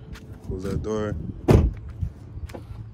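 The door of a 2021 Volkswagen Atlas Cross Sport shuts with a single solid thud midway through, surrounded by background voices and movement.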